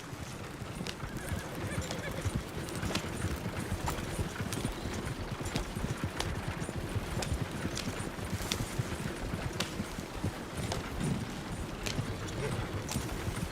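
Horse hooves clip-clop at a steady trot in Red Dead Redemption 2, riding out through trees, with a horse neighing at times and a continuous busy patter of hoofbeats filling the scene.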